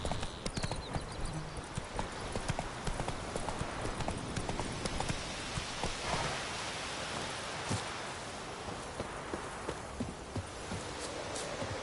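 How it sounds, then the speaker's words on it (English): The horse Roach gallops in The Witcher video game, hooves clip-clopping in a fast, continuous rhythm close by, with an ambient outdoor wash beneath. "Run, Roach"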